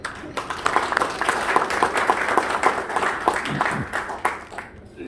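A hall audience at the Gangnam economic forum applauds to welcome a lecturer, giving several seconds of steady, moderately loud clapping that eases off toward the end.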